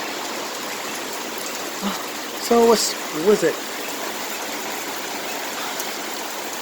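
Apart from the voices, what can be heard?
rain falling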